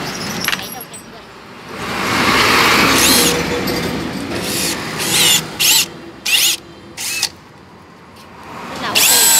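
Cordless drill with a 10 mm chuck flaring copper pipe, firing in several short whirring bursts of rising pitch separated by pauses, with someone talking during the first stretch.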